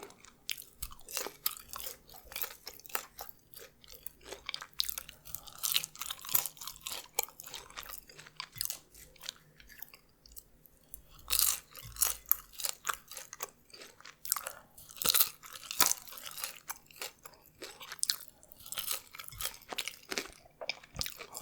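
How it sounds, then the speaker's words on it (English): Crispy fries being bitten and chewed close to the mic, with dense irregular crunches and moist chewing sounds. The crunching runs on through the whole stretch, with short pauses between bites and no talking. "These fries are crispy"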